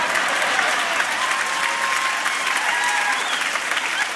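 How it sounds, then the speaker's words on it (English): An audience in a church claps continuously, a dense, even wash of many hands at steady volume from start to finish, with faint voices mixed in. "Why are you clapping for me?"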